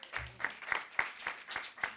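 An audience applauds in a hall during a greenwashing quiz, with a handful of sharp, spaced claps ringing out and a brief low murmur of voices early on.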